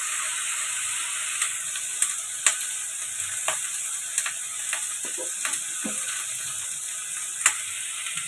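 A spoon or spatula scrapes and taps in a pan of frying green chilies with salt and turmeric for a pumpkin-leaf ghonto, the light clicks coming irregularly over a steady, bright sizzle of hot oil.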